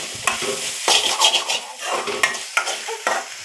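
Food is stirred in a frying pan, with close, rhythmic scraping strokes over an active sizzle, loud and uninterrupted by talk.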